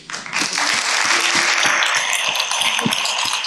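An audience applauds at the end of a professional presentation, a loud, dense burst of clapping that rises quickly and holds steady, with a few sharper individual claps standing out near the microphone.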